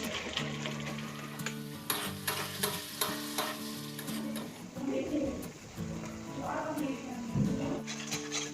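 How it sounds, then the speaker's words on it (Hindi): Masala spices for a rohu fish curry frying and being stirred in a pan, a steady close sizzle broken by repeated scraping stirs, with a low background hum throughout. "हमारा मसाला अच्छी तरीके से भून चुका है"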